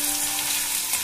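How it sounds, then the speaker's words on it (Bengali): Cut potatoes fry in hot oil in a pan, giving a brief, steady, close sizzle with no voices. "আমি আলুগুলো একটু ভেজে এর মধ্যে আমি সোয়াবিনগুলো দিয়ে দেব"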